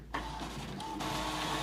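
An Epson EcoTank ET-3760 inkjet printer runs a print job, a steady mechanical whir with a carriage pass starting abruptly after a brief quiet moment, close and fairly even throughout.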